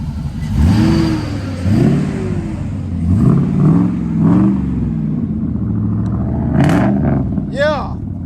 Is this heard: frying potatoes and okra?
no